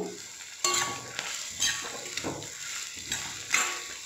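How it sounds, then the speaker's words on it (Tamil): Chopped onions sauté in a pan for pepper chicken, a soft sizzle under repeated sharp scrapes and knocks of a spatula stirring, close by. "வெங்காயம் வந்து நல்லா வதங்கணும் பொன்னிறமாக"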